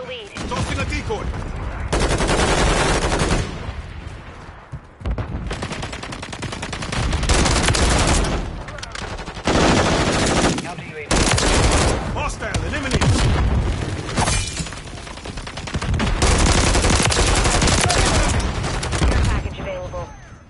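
Gunfire in a chaotic Call of Duty match: long loud bursts of rapid automatic fire and booming blasts that stop and restart in stretches, with gaps of quieter battle noise between them.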